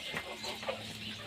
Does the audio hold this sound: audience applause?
no